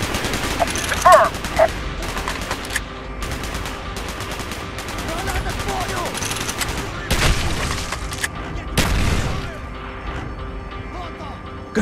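Bursts of gunfire crackle over a busy battlefield din in Call of Duty: Black Ops, with sporadic shots and a couple of heavier blasts, while voices talk intermittently.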